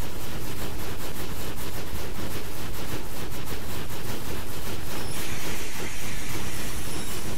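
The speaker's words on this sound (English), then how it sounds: "Oh, and I can sit in the train whilst it's on the move." A moving train in the video game ARK: Survival Evolved rolls along loudly and continuously, with rhythmic clickety-clack from the wheels and a rushing hiss that brightens near the end.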